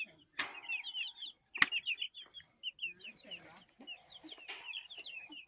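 Mother hens cluck in rapid, close bursts that continue throughout, with a couple of sharp knocks and some faint rustling among them.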